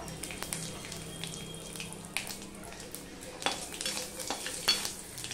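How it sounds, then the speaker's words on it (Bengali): Dried chilli split in two, panch phoron and two bay leaves sizzle and crackle in hot oil, a steady close frying hiss with scattered pops and light utensil knocks while cooking bottle gourd. "একটা শুকনো লঙ্কাকে দুভাগ করে দিয়ে দিলাম একটুখানি পাঁচফোড়ন, দিয়ে দিলাম দুটো তেজপাতা"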